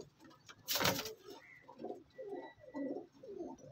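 Young flying pigeons cooing softly in a series of low, rounded coos, close by and fairly quiet, after a brief louder flutter or rustle near the start.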